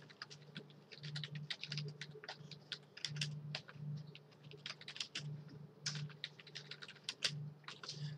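Java code being typed on a computer keyboard: a rapid, continuous patter of close key clicks with uneven rhythm and occasional heavier strokes, with no talking.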